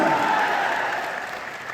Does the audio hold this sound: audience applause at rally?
yes